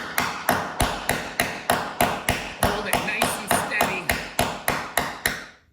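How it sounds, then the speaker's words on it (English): A hammer strikes a bit driven into a stubborn bolt in a steady series of about sixteen sharp metallic taps, evenly spaced and close by, with a short ring after each hit. "Let's give this thing a few good taps."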